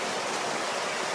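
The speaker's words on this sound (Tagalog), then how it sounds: "kasi napakalakas talaga ng ulan" Heavy rain pours down as a steady, dense, close hiss with no let-up and no voices over the brief stretch.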